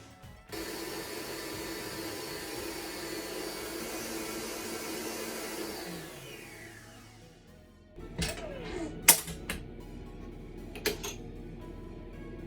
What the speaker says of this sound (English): Next step is to whisk the egg yolks and the rest of the sugar.